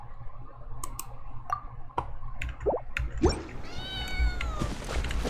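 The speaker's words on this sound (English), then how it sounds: "Jade-eyed cat." A jade-eyed cat in Genshin Impact gives a drawn-out meow near the end, preceded by scattered clicks and soft wet taps over a low background hum.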